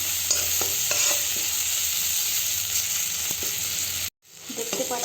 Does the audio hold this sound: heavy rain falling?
no